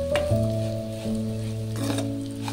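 Cumin seeds frying in a pan for vegetable upma, a close, soft sizzle and crackle with a few stirring scrapes and clinks, over a steady background hum.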